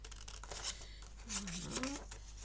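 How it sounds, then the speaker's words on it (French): Small scissors snip through a little piece of paper in a few quick crisp cuts, close by, with a brief soft voice murmuring partway through. "Alors, je continue à couper mon petit bout."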